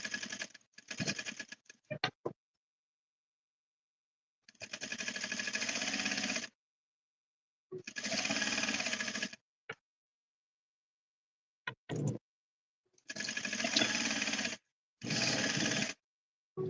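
A sewing machine runs a stitch length of 3.0 in several separate bursts of steady, even stitching, each lasting one to two seconds, with quiet pauses between and no talking.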